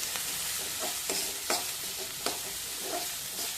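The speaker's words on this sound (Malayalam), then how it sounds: "1 കപ്പ് സവാള അതിലേക്ക് ഇടാം. ഒരു 2-3 മിനിറ്റ് നന്നായി ഒന്ന് വഴറ്റാം." Sliced onions sautéing in hot oil in a pan, a steady close sizzle with intermittent stirring scrapes and clinks, no voices.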